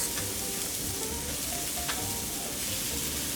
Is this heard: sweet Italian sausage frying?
yes